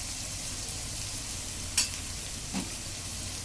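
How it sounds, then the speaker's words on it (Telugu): Raw prawns cooking in a pan for a prawn and drumstick curry, a steady close sizzle and bubbling with a couple of faint clinks of a spoon or lid, no voices. "చూసారా మగ్గుతున్నాయి"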